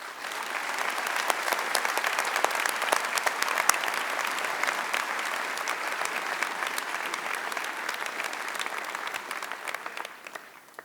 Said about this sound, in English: we all owe him an immense round of applause at this time